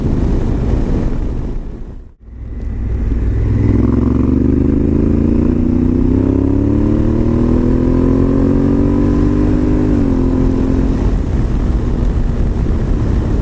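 A Honda Africa Twin motorcycle is ridden on the road, its engine droning steadily under heavy wind rush, the pitch climbing gradually as it accelerates after a brief drop in sound early on.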